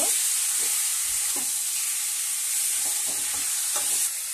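Chicken and papaya curry sautéing in a pan, a steady close sizzle and hiss with scattered soft clinks and scrapes of stirring, no voices.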